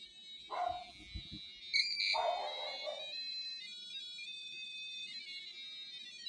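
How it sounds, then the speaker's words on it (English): A homemade theremin emits a sustained electronic beeping tone that shifts pitch as a hand moves near its antenna, with a couple of brief bursts early on and then a steady, moderately loud tone. "for this theremin, when I hit run, you hear the beep"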